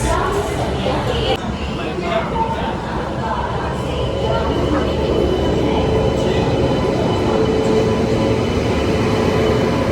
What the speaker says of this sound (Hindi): हमारी ट्रेन जो चल चुकी है यहाँ से 10:40 पे।